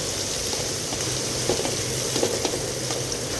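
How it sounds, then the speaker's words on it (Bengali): Green chillies, onion and garlic frying in hot oil, a steady close hiss and sizzle with faint crackles and occasional stirring scrapes, no voices. "এখানে দিয়ে নিচ্ছি কাঁচামরিচ পেঁয়াজ রসুন এটা যখন আমার ভাজা ভাজা হবে লাল লাল"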